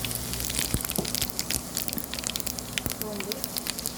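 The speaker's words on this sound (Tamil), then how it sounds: "எண்ணெயில் பொரியட்டும்." Whole spices such as fenugreek, mustard seeds, cumin, pepper and fennel sizzle and crackle in hot oil for a fish curry, a dense steady hiss dotted with sharp pops.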